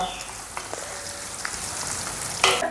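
A tempering of spices sizzles in hot oil for a jackfruit upkari, a steady close crackle with a few sharper pops and a louder burst near the end.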